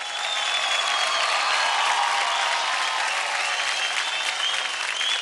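A television dance-competition studio audience bursts into loud, sustained applause, a dense, even wash of many hands clapping that holds steady and close for the whole stretch without any voices breaking through.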